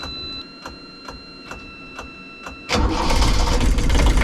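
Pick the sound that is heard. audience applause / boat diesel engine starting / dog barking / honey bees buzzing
boat diesel engine starting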